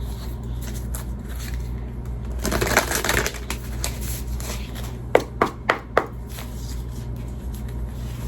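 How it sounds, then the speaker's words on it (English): A thick deck of cards is shuffled with a rustling riffle, followed by four sharp taps as the cards are squared up, close and clear. "This deck is pretty big, so I have to kind of shuffle it sideways."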